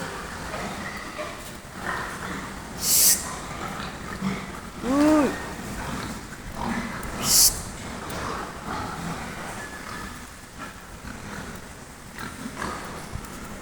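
Farm pigs grunt and oink in a few short, rough bursts over a steady noisy background, with a couple of sharp high squeals, at moderate distance.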